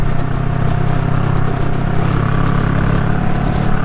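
A Honda Rebel 500 motorcycle rolls along at low speed, its engine a steady, close, loud drone mixed with road and wind rumble, continuous throughout with no talking.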